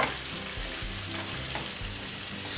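Fennel seeds being stirred into pumpkin sabzi in a hot pan give a steady close sizzle of frying, with soft scraping and stirring thumps throughout and no talking.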